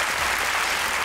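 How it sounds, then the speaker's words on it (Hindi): Studio audience applauding on a Pakistani comedy talk show, a brief burst of thick, continuous clapping from a crowd, heard alone without voices. "हमारे पास बेहतरीन ऑडियंस थी, अपने लिए तालियां बजाइए"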